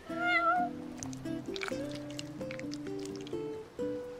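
Several meows from a spoiled cat in Final Fantasy XV, sung out one after another over a soft musical backdrop, loud and close with a rising, wavering cry at the start.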